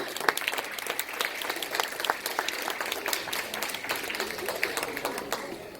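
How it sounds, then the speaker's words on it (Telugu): Parents at a children's festival clap for students after their school play, giving a moderately quiet, lively applause with distinct individual claps throughout that thins out slightly near the end. "మరి వీళ్ళందరికీ మరొకసారి చప్పట్లు కొట్టి అభినందిద్దామా?"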